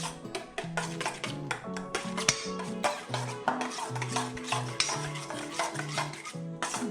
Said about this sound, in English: we're just going to take our ingredients and mix them together